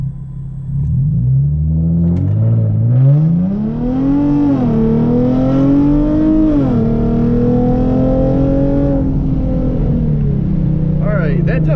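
A Hyundai Genesis Coupe 3.8 launches with traction control on, its engine note climbing steadily through the revs with brief dips at gear changes, loud and close for nearly twelve seconds.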